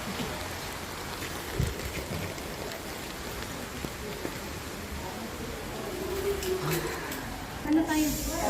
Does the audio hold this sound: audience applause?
no